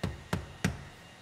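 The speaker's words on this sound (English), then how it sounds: "Put our D-pillar trim in." Three sharp plastic snaps as the D-pillar trim panel of a 2013 Buick Enclave is clipped into place, evenly spaced and close, followed by quiet.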